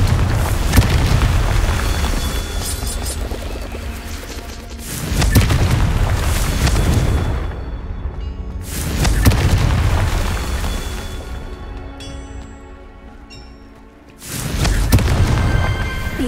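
Confringo fire spell blasts in a Hogwarts Legacy Merlin trial: four heavy booming explosions spaced a few seconds apart, each a loud burst that decays into a rumbling tail, with no talk.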